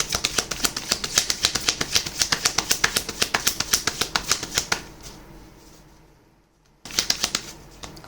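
Tarot cards are riffled and shuffled for a reading in a quick, steady run of crisp flutters close to the mic. A brief quiet pause follows, then the shuffling resumes.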